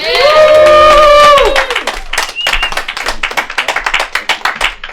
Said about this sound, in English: Give a round of applause for Ali, everybody.